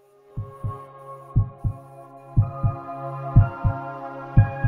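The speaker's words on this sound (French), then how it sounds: "On part sur les battements de cœur." Heartbeat sound effect, a steady thumping lub-dub pulse of about nine deep beats at an even rhythm, loud and close over a soft sustained tonal hum with no talking.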